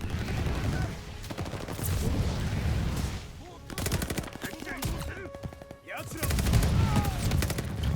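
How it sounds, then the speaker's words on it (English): Battle noise from the Call of Duty: Vanguard video game around a thrown grenade, dense rattling gunfire and booming blasts that come in loud waves with brief dips between them, no voices heard. "let's throw a grenade, hope for the best"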